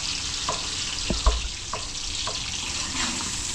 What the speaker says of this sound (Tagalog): maluto yung ating bawang sibuyas